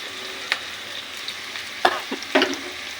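Chopped onions and green chillies fry in oil in a pan for a fish curry, a soft hiss broken by a few scraping stirs and clinks of a spoon close up, with no voices.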